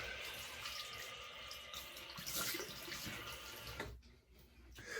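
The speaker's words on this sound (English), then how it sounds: "Cold water rinse, we're going to close those pores." Tap water runs steadily into a sink for a cold rinse after a shave, a continuous close splashing hiss that briefly thins near the end before resuming.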